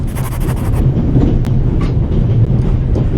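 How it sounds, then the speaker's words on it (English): Loud, continuous low rumble of a train interior in the video game The Raven Remastered, heavy and droning, with a brief high hiss at the start. "The noise on this train is driving me crazy."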